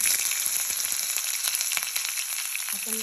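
Mustard seeds and green chillies crackle and sizzle steadily in hot oil for a lentil kosambari tempering, a dense close hiss with scattered popping throughout.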